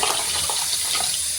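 Water poured into a pot of bassaru rasam, a Kannada lentil-and-greens broth, making a steady, continuous splashing pour for a short moment, close and fairly loud with no talking.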